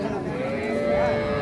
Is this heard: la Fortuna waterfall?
no